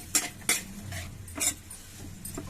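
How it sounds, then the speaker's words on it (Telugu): A spoon clinks and scrapes against a pan while onions fry gently for a bottle gourd curry, with a few sharp taps over a faint background sizzle. "ఉల్లిపాయలు ఇప్పుడు ఇవి కొంచెం ఏగనివ్వాలి."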